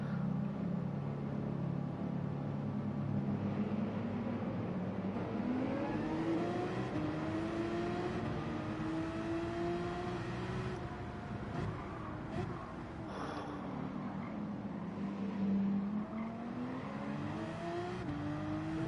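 Race cars lap the Nürburgring in Gran Turismo 7 during an endurance race, with engines droning and rising and falling in pitch as they accelerate and shift, a steady close roar throughout.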